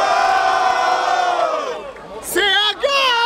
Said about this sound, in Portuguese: Barulho para as rimas do Jaya